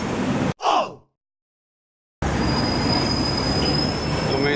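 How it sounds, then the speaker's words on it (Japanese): A Hong Kong street tram arrives with loud rail wheel squeal and rumbling, preceded by a short burst of noise and a brief dropout, then steady close grinding and screeching along the track. "路面電車来ました。"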